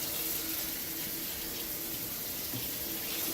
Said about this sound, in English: So just going to give it a quick rinse here.